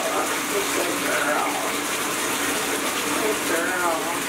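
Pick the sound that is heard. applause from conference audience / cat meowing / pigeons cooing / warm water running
warm water running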